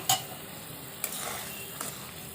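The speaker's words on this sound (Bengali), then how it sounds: "তো দেখুন ঝোল খুব ভালোভাবে ফুটে গেছে" Fish curry broth boils in a pan, giving a faint, steady bubbling sizzle with a couple of soft clicks and no talking.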